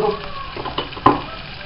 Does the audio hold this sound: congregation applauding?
no